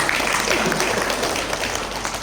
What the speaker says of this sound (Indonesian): Tepuk tangan buat diri sendiri.